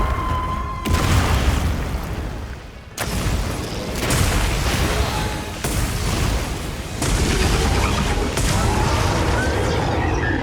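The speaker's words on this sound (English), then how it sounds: "those Dragon Pod multi-explosions are super freaking efficient if used properly" Several heavy Dragon Pod explosions in a video game boom one after another, each a sharp burst followed by a rumbling, crackling tail, loud and close.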